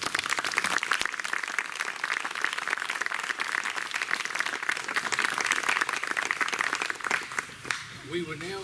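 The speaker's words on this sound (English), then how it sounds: "Can we give them a big round of applause?" Sustained audience applause at a formal Virginia Declaration of Rights ceremony, dense clapping from a crowd holding steady and loud for about seven seconds before thinning out, with a faint voice near the end.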